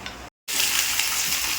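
Loud, steady sizzling of onions and curry leaves frying in hot oil, briefly cut by a split-second gap before the crackling hiss resumes, close and continuous.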